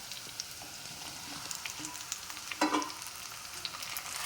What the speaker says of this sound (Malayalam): എന്നിട്ട് അതിലേക്ക് നമുക്ക് ഈ നുറുക്കി വെച്ച് വെണ്ടക്കായ ഇട്ട് കൊടുക്കുക.